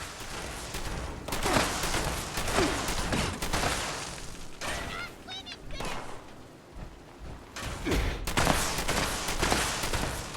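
An explosive shotgun in Fallout 76 fires in heavy, booming bursts again and again. The blasts come in clusters with brief quieter gaps, and a voice can be heard now and then.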